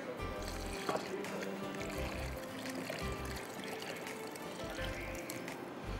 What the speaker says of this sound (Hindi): ये स्टॉक क्यूब डिज़ोल्व कर दिया है आपने पानी के साथ ये आप इसमें डाल देंगे